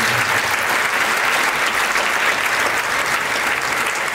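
Applause at a peace concert in San Severo honoring the fallen of all wars, a dense, steady crowd clapping that holds at an even level throughout.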